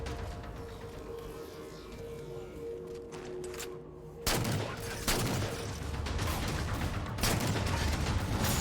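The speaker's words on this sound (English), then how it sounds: "I'm just gonna keep shooting." Weapon fire in the Halo 4 Spartan Ops campaign, rapid bursts of shots layered densely over a constant noisy battle bed, with sharper loud blasts breaking in partway through and continuing to the end.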